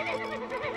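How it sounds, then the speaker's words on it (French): A horse named in a French drama scene gives a short, wavering whinny at moderate level, its rising and falling pitch heard alone for under a second. "L'esprit Erzébet nous a rejoints à travers son cheval."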